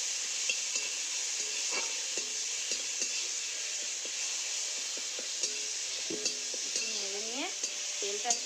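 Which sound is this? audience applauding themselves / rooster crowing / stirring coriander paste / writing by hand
stirring coriander paste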